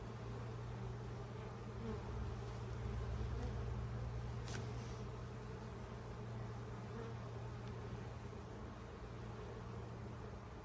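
Honeybees in a backyard beehive hum in a steady, dense drone close by, an unbroken buzz with a faint high whine over it and no voices.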